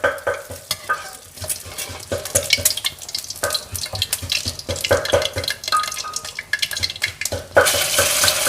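An egg fries in hot oil in a pan, crackling and sizzling steadily while a utensil scrapes and stirs, close and fairly loud, with a louder burst of spitting near the end.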